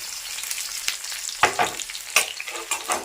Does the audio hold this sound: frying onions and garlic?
yes